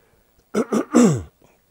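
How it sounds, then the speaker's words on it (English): A person clears their throat in two short rasps followed by a longer, gravelly hack, close to the microphone. "I'm trying to clear my throat"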